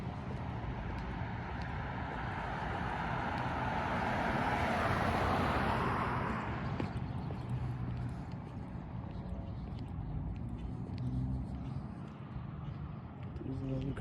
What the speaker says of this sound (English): There's engine sounds behind me. It's a semi, I think.